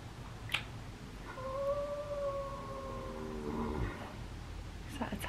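A horse lying down in straw lets out a drawn-out, low groaning moan that wavers in pitch and fades away, faint and close in a quiet stable with soft rustling around it.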